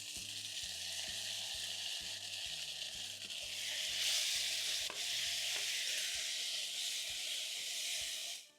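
Onions and garlic browning in cooking oil for an egg stew, a constant close hiss of frying with faint rhythmic low thumps beneath, swelling slightly louder midway before cutting off at the end.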